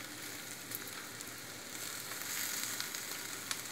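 Capsicum and spring onions frying in a pan for veg Manchurian, a steady, soft sizzle with faint crackles throughout and no talk over it.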